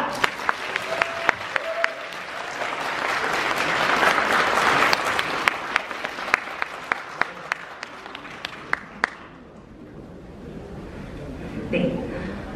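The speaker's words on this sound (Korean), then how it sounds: "우리 양가 어머님께 뜨거운 박수 부탁드립니다." Wedding guests applaud the mothers of the couple at a candle-lighting ceremony, warm crowd clapping swelling, then thinning into scattered claps before fading, with an announcer and murmuring voices.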